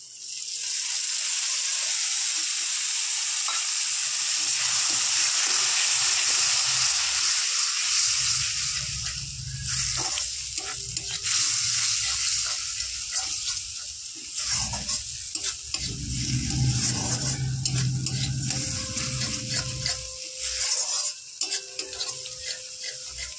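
Beaten sour curd poured into sizzling okra masala in a hot pan, with a steady loud frying hiss and stirring scrapes throughout.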